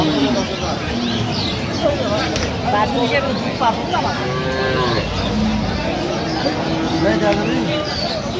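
Cows and calves at a busy Bangladeshi cattle market in Aftabganj moo several times, loud and drawn out, over constant crowd babble and nearby talk.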